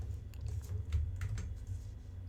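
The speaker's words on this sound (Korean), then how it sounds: "이건 타이핑을 한번 쳐보겠습니다." A computer keyboard is typed on in a steady run of light, close clicking keystrokes over a low background hum, with no talking.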